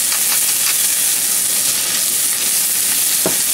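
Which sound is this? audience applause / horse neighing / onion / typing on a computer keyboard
onion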